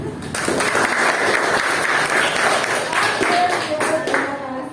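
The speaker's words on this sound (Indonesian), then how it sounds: "Tepuk tangan dong buat Tio." A group of children claps together in a lively burst of applause lasting several seconds, with voices mixed in.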